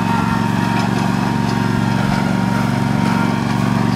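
A Troy Bilt lawn mower runs at a grandparents' farm near a garden, its engine droning loud and steady with a close, constant buzzing hum.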